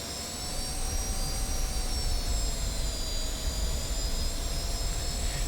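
A steady, loud jet roar from an F-86F Sabre in DCS World as it throttles up, with a constant high whine and a broad rumble holding level throughout, without any talk.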